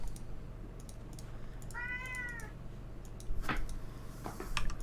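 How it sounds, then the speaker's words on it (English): A house cat gives a single clear meow mid-clip, close by, amid soft computer keyboard typing and clicks. "My cat's back."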